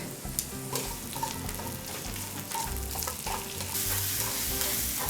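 Onion strips seasoned with salt being stir-fried in a hot pan for japchae: steady loud sizzling with repeated scraping and tossing of a spatula, close and continuous, growing slightly louder toward the end.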